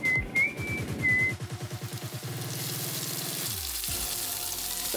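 Vegetables, potatoes and pork chops cook in a pan, a steady close sizzle and hiss rising after an opening run of whistling tones and rhythmic bumps.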